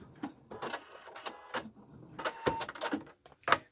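A sewing machine stitches a fabric wristlet in short, quiet mechanical bursts with pauses between them, close up and without talk.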